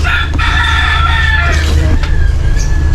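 A Rhode Island Red rooster lets out a long, loud crow close by, its drawn-out call stretching across most of the moment over a steady low background hum.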